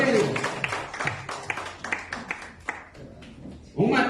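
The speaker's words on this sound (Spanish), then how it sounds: "Denle un aplauso al Señor, hermano." A church congregation applauds the Lord during a Spanish-language sermon, with scattered clapping mixed with voices and shouts of praise, and a louder burst of applause rising at the very end.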